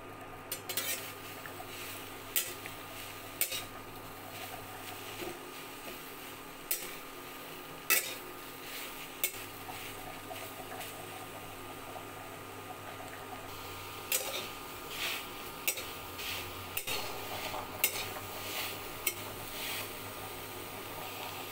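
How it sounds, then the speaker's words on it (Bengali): Chopped coriander leaves are stirred in a hot wok, with repeated metallic spatula scrapes and clinks at an uneven rhythm over a quiet background and no talking. "ধনেপাতাগুলো কেটে টুকরো করে নিয়েছি। এবার গরম কড়াইয়ের মধ্যে নেড়ে নেব।"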